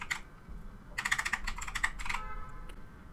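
Typing on a computer keyboard into the Windows 11 search box: a short opening tap, then a dense burst of quick keystrokes followed by a few scattered clicks, close and clear against a quiet room.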